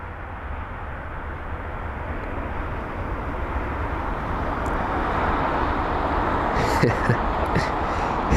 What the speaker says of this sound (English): got the United 767 just taxiing over now as well